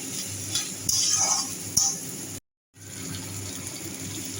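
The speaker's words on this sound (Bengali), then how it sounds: "এখন পেঁয়াজ ভেজে নিচ্ছি" Onions frying in a pan of hot oil during home cooking give a steady crackling sizzle, with a few metal clinks of stirring and a brief dropout partway through.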